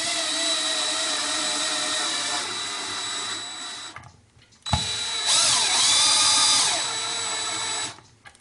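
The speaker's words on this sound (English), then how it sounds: "my plan is to just take it down most of the way with the electric drill" An electric drill whines steadily, then stops briefly and starts again with a rising pitch during woodturning work on a large segmented bowl. The whirring is loud and close, with no talking.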